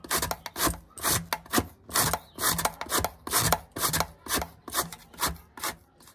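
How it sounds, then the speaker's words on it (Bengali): Carrots scraped back and forth over a hand grater, giving steady rhythmic rasping strokes about twice a second, close and fairly loud with no talking. "আমি এইভাবে গাজরগুলোকে গ্রেট করে নিয়েছি"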